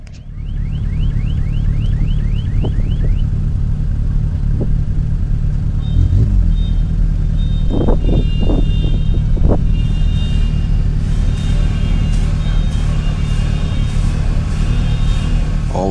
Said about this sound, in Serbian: to je zvuk motora iz ovog Mercedesa Cabrija